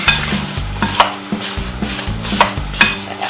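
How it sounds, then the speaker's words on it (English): Lemon juice being stirred into a dish of sliced apples, a series of rhythmic scraping and clinking strokes close by with no talking. "Let me get something to stir that up."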